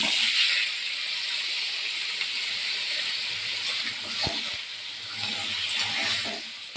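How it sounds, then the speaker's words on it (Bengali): Cut potatoes with turmeric powder and salt fry in a pan with a steady, bright sizzling hiss, moderately loud and close, broken by a few soft clinks and stirring sounds. "হলুদ গুঁড়ো, নুন দিয়ে এবার আলুটাকে আমি ভাজবো।"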